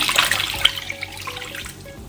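Water poured into a pan holding sugar to make syrup for coating taro jackfruit-seed sweets, a splashy running stream heard close and alone, steady then tapering off.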